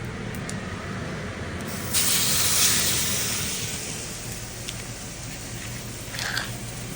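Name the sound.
steak searing in a preheated hot pan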